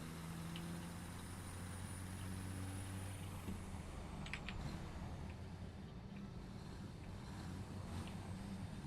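Vehicle reversing in the factory game Satisfactory, a steady low engine drone with a faint whine and brief hissing bursts, continuous and moderately loud with no talk.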